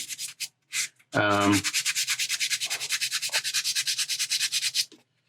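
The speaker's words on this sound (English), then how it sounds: "I take one of these sponges that's slightly used and I will give everything just a light sanding, just real light." A used sanding sponge lightly sands a 1/4 scale Deadpool figure, a close, rhythmic run of quick scratchy rubbing strokes in steady succession after a few short scrapes, with a brief voice heard early on.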